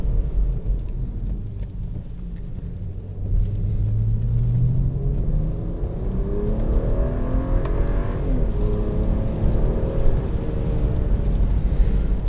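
A 2011 BMW E90 335i accelerates hard on a twisty road, its engine tone climbing through the revs in rising sweeps, with a shift and renewed climb over a low, close rumble of road noise.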